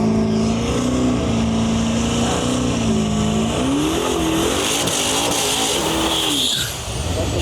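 Drag racing cars at Canada's Miles of Mayhem drag-and-drive event roar down the strip, their loud engines revving and rising in pitch as they make a pass, ending in a sharp screech.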